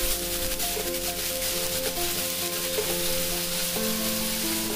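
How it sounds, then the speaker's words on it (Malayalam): Onion-tomato masala paste sautéing in coconut oil for karikku patiala chicken, a steady close sizzle with faint stirring scrapes running unbroken throughout, no voices. "നമുക്ക് അതേ വെളിച്ചെണ്ണയിലോട്ട് നമ്മുടെ അരപ്പിനെ ചേർക്കാം"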